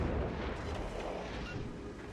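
Warship turret guns firing in World of Warships Legends, heard as a low, rumbling artillery boom that rolls on for a couple of seconds at moderate volume.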